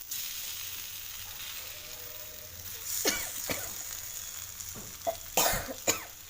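Tomato slices frying in a pan for tomato chutney, a steady soft sizzle throughout with occasional louder clinks and stirring sounds near the end.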